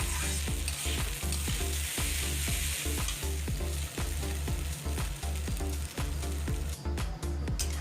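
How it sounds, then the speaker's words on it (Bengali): Bengali fish head curry with turmeric and salt stirred in a hot pan, with loud, steady frying sizzle and a quick, regular rhythm of spoon scrapes throughout, close up and with no talking. "এবার আমি একটু ভালো করে নেড়ে নেব।"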